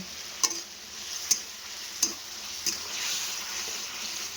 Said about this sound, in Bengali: ভালো করে কষাতে থাকবো তো মশলাটা